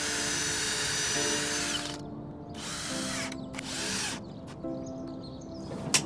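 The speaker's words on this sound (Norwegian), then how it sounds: "Husk også å forbore." A power drill pre-drills holes in shed roof beams during garden shed assembly, whining steadily with a few short pauses and restarts, close and loud, without speech.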